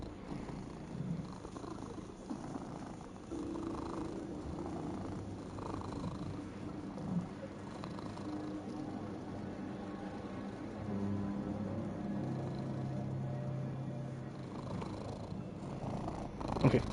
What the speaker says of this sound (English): Loud purrs, boy.